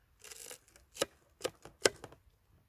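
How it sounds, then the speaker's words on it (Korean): Knife cutting through a freshly fried pork cutlet (tonkatsu), a few sharp crunchy strokes close up with short pauses between them and no talk. "우아하게 칼질을 좀 하겠습니다"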